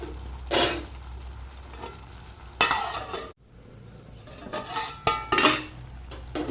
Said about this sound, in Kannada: ನೋಡಿ ಇವಾಗ ಟೊಮೆಟೊ ಹಾಕಿ ಟೊಮೆಟೊ ಬೇಯ್ತಾ ಬಂತು